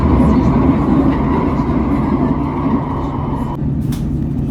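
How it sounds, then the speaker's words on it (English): Metro train in Portugal heading to the airport, with a loud steady rumble and rattle of the moving carriage heard from inside, unbroken and close. "it's time to take the metro to the airport"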